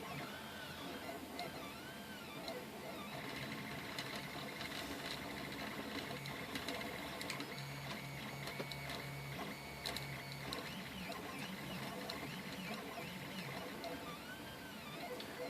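A 3D printer prints onto frosted glass with a steady mechanical whir and stepping motor tones, its frame rattling loosely from a missing O-ring, close and continuous under soft talk.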